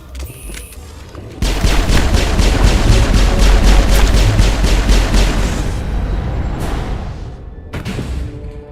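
Sci-fi weapons fire erupts in a Mass Effect lab firefight: a loud, sustained barrage of rapid shots and booms that tails off near the end.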